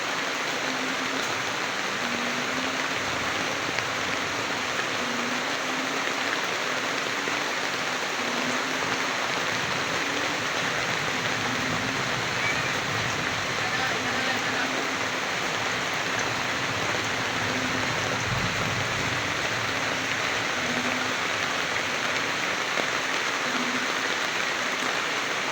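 Heavy rain pours steadily and evenly over a flood-prone riverside neighborhood at night, a dense continuous hiss with no break and no voices.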